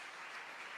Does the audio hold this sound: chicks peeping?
no